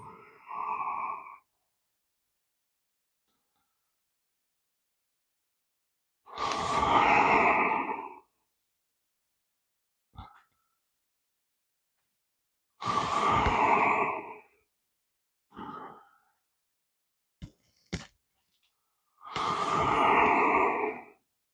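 Slow, deep breaths taken during seated chair yoga stretches for twists and side bends, several long inhales and exhales spaced by quiet pauses, close and fairly soft.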